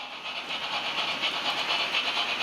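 A steady hiss with a soft rhythmic chuffing from a digital sound-fitted model Deltic locomotive running on an analogue Gaugemaster controller, fairly close and moderately loud, with no speech.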